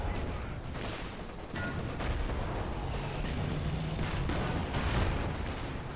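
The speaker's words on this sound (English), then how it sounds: "And then when they're in range, we hit them with the AT guns." Anti-tank guns fire in a strategy video game battle, a dense barrage of overlapping booms and gunfire bursts over a continuous rumbling din of combat, loud and steady across the whole stretch.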